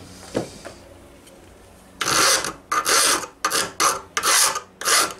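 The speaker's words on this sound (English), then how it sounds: "I'll rake them backwards and forwards" A file rasps back and forth across a steel hinge for medieval armour held in a vise, with six loud, rough strokes in steady rhythm after a quiet start.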